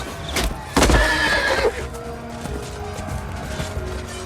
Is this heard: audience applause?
no